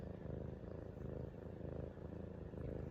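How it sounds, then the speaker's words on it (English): A cuddling cat wrapped against a person purrs quietly at close range, an even, throaty vibration that rises and falls with its breathing and plays alone throughout. "That purring is just pure medicine."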